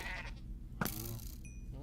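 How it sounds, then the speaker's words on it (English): Goats in a video game bleat, a drawn-out wavering call near the start, then a sharp click and a second short bleat, with faint game chimes and background noise. "The goats."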